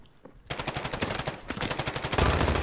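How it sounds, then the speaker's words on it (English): Rapid gunfire in a shooter video game starts abruptly and continues as a loud, fast string of closely spaced shots that grows denser toward the end. "I downed a guy with my pistol."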